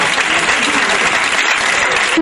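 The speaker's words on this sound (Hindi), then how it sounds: "एक बार आप भी तालियों के साथ।" Loud, close applause from a poetry-recital audience, a thick continuous wash of many clapping hands with no pause and no speech over it.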